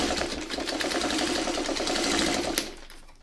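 A sewing machine stitching steadily at speed, a dense mechanical whirring chatter with a rapid repetitive needle rhythm, ending with a sharp click as it stops.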